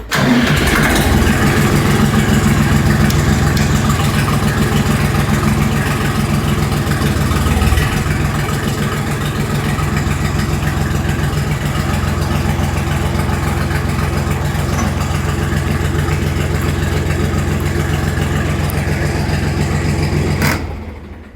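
The KM385BT diesel engine of a 2023 Kentavr 244SX mini tractor runs steadily and loudly for about twenty seconds, a low chugging idle that cuts off abruptly near the end.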